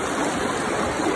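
A river stream flows with a steady, full rushing hiss, close and unbroken for the whole moment, no voices over it.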